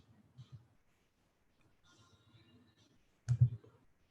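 A single sharp mouse click lands alone near the end, with only faint low murmur before it.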